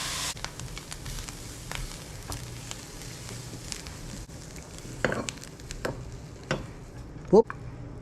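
Vegetables for a potato hash fry in a very hot pan, giving a soft steady sizzle with a few stirring scrapes and a brief clatter near the end.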